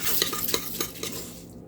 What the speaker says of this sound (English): and then like a half a tablespoon of chili powder. Get it stirred up.